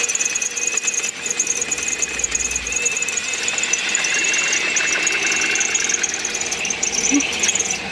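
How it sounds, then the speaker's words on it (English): A power drill bores half-inch holes in the frame of a 1996 Ford F250 during a reverse shackle lift, a loud steady high squeal of bit on steel running throughout. "we've been switching off drilling the 1/2 inch holes here"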